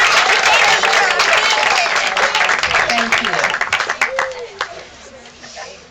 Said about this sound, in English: let's give a big round of applause for everybody involved in this project.